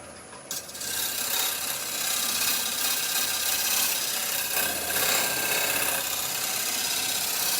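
A skew chisel held at a negative rake cuts side grain on a wood lathe while a pestle and mortar is being turned, giving a loud, continuous rasping hiss up close that starts abruptly and holds steady.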